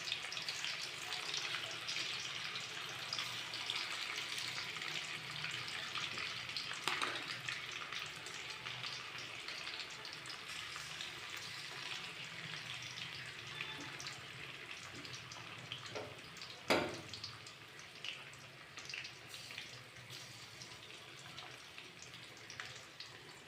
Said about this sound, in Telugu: చికెన్ పీసెస్ని వేయించుకోవాలి బాగా. ఇలా వేపుకోవాలి ఆయిల్లో.